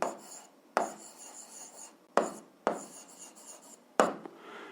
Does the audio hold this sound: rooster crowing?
no